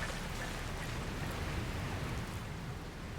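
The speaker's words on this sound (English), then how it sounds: "Where did this rain come from?" Rain falling in the Dragon Quest Builders 2 video game, a steady, even hiss of downpour with no breaks and no voices, constant in level from start to finish.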